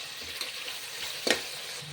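Tomatoes with rock salt frying in a pressure cooker for egg pulao, giving a short burst of close sizzling with one sharp spatter or stirring clack near the end, no talking.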